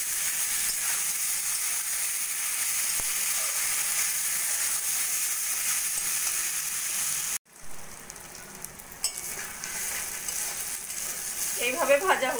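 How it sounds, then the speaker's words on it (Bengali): Onion, tomato, cumin and chilli powders with ginger-garlic paste frying for a pointed gourd (potol) curry, a steady close sizzle that cuts out briefly, then resumes with scraping stirs and crackles; no one speaks. "সবকিছু ভালো করে মিশিয়ে নিয়ে আবার ভাজা ভাজা করে নেব।"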